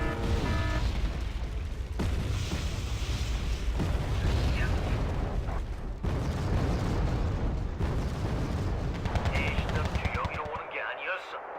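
Airstrike explosions and battlefield fire rumble continuously in Wargame Red Dragon, a dense, steady din of booms and crackling blasts with someone talking over it.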